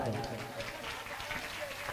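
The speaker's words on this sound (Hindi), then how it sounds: "ओकर बा जोरदार ताली बजा दो" A crowd at a two-day Jasgan and tableau competition in Pritam Nagar, Raipur, gives a sustained round of applause, a steady hiss of many hands clapping under speech.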